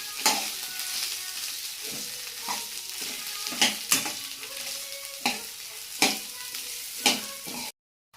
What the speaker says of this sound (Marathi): त्याच्यामध्ये आपण हे चांगलं परतून घेऊया.